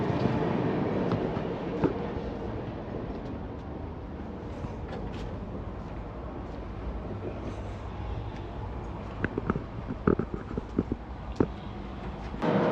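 Passenger train running overnight on the way from Howrah to Haridwar, heard from inside the carriage as a steady low rumble and hiss, with rhythmic clacks of wheels over rail joints growing more frequent late on.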